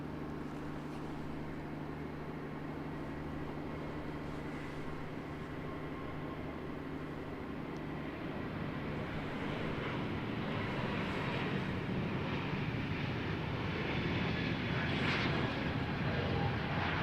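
An Air New Zealand A321neo in Star Alliance livery takes off from foggy Christchurch Airport on flight NZ580, its jet roar building gradually from distant to louder and broader over steady background rumble, with no talking.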